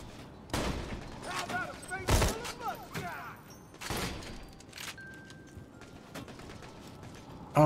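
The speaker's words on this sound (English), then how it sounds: "Who's shooting?" Gunfire in the video game Borderlands 2, several sharp shots and bursts spread across a few seconds amid mechanical game noises, with a person talking over it.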